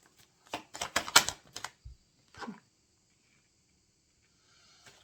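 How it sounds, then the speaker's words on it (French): Tarot cards are shuffled and tapped back into order by hand, a quick cluster of crisp card flicks and snaps followed by a softer tap. Near silence follows. "Je remets les cartes dans l'ordre."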